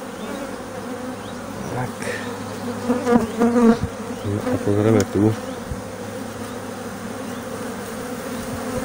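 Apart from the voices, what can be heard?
honeybees buzzing at an open beehive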